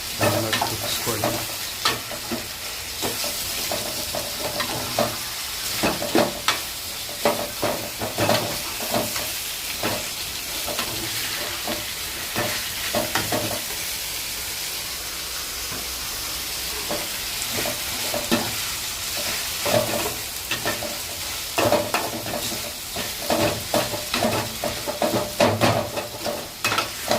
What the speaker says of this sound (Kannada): ಚಿಕನ್ ಹಾಕ್ಕೊಂಡು ಚೆನ್ನಾಗಿ ಕುದಿಸ್ಕೊಳ್ಳಿ.